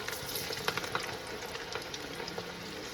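Kolim (jawla) tiny dried shrimp bhaji fritters dropped into hot oil, giving a dense, steady bubbling sizzle at close range without any talking.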